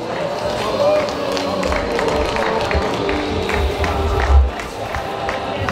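Applause and crowd noise at a karate championship award ceremony, a steady, moderately loud mix of clapping and cheering voices with a few louder bursts and talk over the top.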